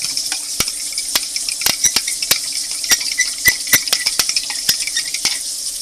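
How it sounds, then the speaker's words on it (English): Fork whisking a starch mixture in a bowl while cooking smothered pork chops, with quick irregular metallic clinks against the bowl over a steady hiss from frying in the background. "Just kind of whisk it together, break it up."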